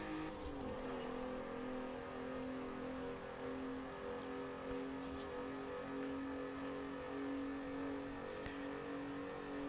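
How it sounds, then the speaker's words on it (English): A slow car driving around a race track, its engine note steady and sustained from start to finish, close and fairly loud, with no talk. "This is one of the slowest cars I have ever taken around this track."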